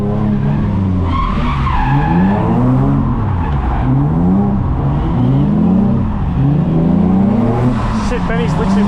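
A racing car in a club race spins and skids, with sustained tire squeal and engine noise carrying on for several seconds while a driver talks over it.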